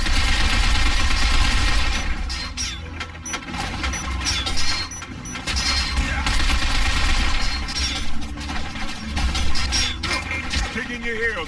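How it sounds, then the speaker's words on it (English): Sustained machine gun fire and explosions from the shooter game Binary Domain, a dense loud rattle of bursts filling the whole stretch with crashing impacts. "Machine gun fire!"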